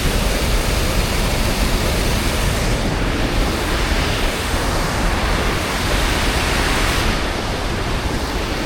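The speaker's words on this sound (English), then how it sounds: "I'm not too sure if you can hear me over the sound of roaring water" Roaring water of a mountain stream or waterfall on the climb up Sněžka, Czech Republic: a loud, steady broadband rush filling the whole clip without pause, close to the microphone, with no voice heard.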